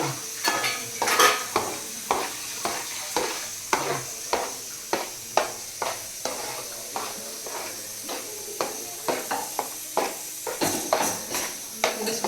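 Dry fruit powder for laddu being stirred and mixed in a pan, producing repeated scraping strokes at a steady, brisk rhythm, close and moderately loud, with no talking.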